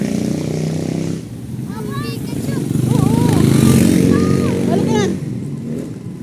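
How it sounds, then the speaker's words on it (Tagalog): A motorcycle engine runs close by, a steady loud drone that swells as it passes, while children and adults talk excitedly over it near a village fair. "May motor."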